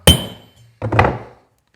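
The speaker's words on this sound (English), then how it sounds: "When I strike it, I'm going to kind of angle my hammer." Two solid hammer blows on a metal crimp about three quarters of a second apart, close and loud, each with a short ringing tail.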